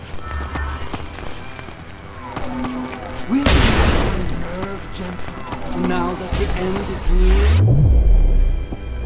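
Rapid gunfire at a boss in the game Deus Ex Human Revolution, bursts of shots under someone talking, with loud mechanical game effects and clattering surges.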